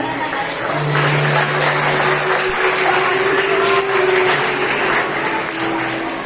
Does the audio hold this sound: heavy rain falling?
no